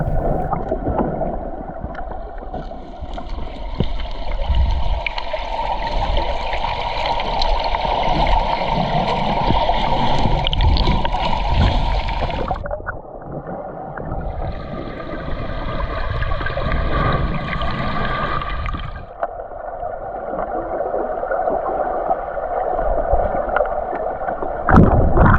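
Water rushing and gurgling steadily, close and loud, while drifting along a stream in the Daintree rainforest; the character of the noise shifts partway through, as if heard partly underwater.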